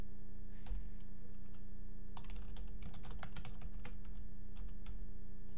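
Rapid clicking of a computer keyboard as Java code is typed, close and clear bursts of keystrokes over a steady electrical hum.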